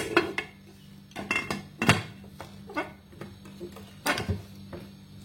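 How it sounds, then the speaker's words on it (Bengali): A pressure cooker lid, with its whistle removed, is fitted onto a cooker holding an eggless mango semolina cake: a series of sharp metallic clanks and clicks at irregular intervals, close and fairly loud, with brief quiet between. "প্রেসার কুকারের সিটিটা আমি খুলে নিয়েছি, ঢাকনাটা এবার লাগিয়ে দিচ্ছি।"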